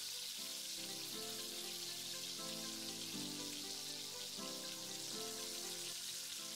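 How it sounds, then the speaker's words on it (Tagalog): Mushrooms sautéing in a little cooking oil in a pan for a quail dish, giving a steady, even sizzle. It stays constant and close throughout, with no talking over it. "Gigisahin natin yung ating mushroom."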